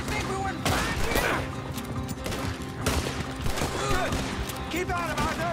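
Gunfire in a Red Dead Redemption 2 shootout in town, with dense volleys of shots cracking continuously close by, mixed with shouting voices and hints of hoofbeats.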